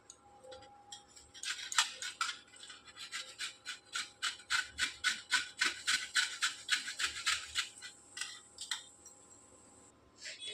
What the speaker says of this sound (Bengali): তো এই গাজর আর বিটটাকে আমি এই ঘিসনির সাহায্যে একটু